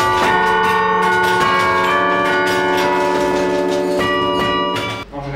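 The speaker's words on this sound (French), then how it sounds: "sur les cloches, on a aussi des marteaux extérieurs qui, eux, donc, sont soulevés et ensuite relâchés pour permettre la cloche" Church bells in the St Piat bell tower ring loud and close as external hammers strike them, the overlapping strikes leaving a dense, sustained metallic hum that swells with fresh hits and fades near the end.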